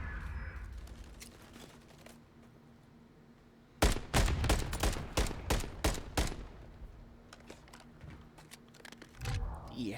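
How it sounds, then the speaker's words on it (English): Call of Duty gunfire with a grenade going off in a competitive match, a sharp burst of rapid shots and an explosion arriving together after a quiet stretch, then scattered shots tailing off. "Nade and the shots come in together."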